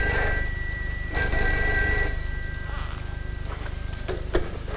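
An old telephone bell rings in a 1951 Danish film scene, two steady bursts of ringing over a constant low hum, followed by faint brief rustles.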